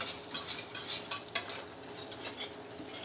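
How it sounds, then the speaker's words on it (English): A whisk scrapes and clicks against a pan as za'atar herb butter sauce is stirred around monkfish medallions, a quiet irregular series of metallic strokes with faint sizzling beneath and no talk. "I'm trying to make sure that I whisk everything pretty well"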